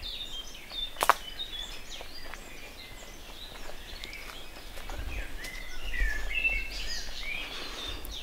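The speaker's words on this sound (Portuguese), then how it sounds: "Que se ouve, os passarinhos." Small birds chirp and twitter in the Monte Brasil nature reserve along a walking trail, scattered high calls over a soft outdoor hiss with a sharp snap near the start.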